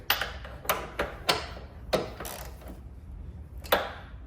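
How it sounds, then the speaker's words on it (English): Ratchet clicking as motor mount bolts are tightened on a 2013-2016 Dodge Dart, with six or seven sharp, close ratcheting bursts spread across a few seconds and no talking. "now we have all 5 bolts tightened"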